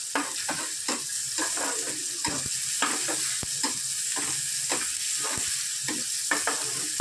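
A beetroot curry with tomato and onion sizzles in oil while a spoon stirs and presses it in the pan, giving a constant frying hiss broken by repeated scraping strokes, close and with no talking.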